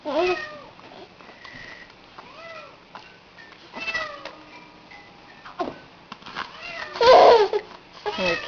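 A pet cat meows several times in a home setting, short rising and falling cries that are close and moderately loud, mixed with soft household sounds and a ticking clock.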